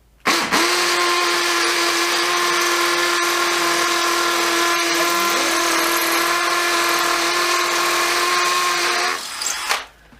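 Dewalt DCD776 cordless drill running at speed, a steady high-pitched motor whine held for about nine seconds after a sharp start, with a slight dip midway, then spinning down abruptly.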